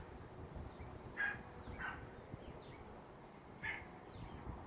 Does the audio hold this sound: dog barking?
yes